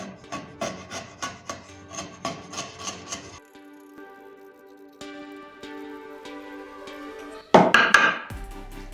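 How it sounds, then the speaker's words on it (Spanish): A wood chisel trims a saw cut in wood for a wooden cross, first with a quick, even series of scraping strokes. After a quieter ringing stretch comes one louder rasping burst near the end. "vamos a rectificar con el formón las alturas para lograr que quede bien cuando lo metamos"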